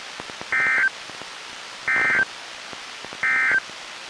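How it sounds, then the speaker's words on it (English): Three identical short bursts of an Emergency Alert System end-of-message tone on NOAA Weather Radio, each roughly a third of a second long and evenly spaced over a faint hiss. "The following tones will conclude this test."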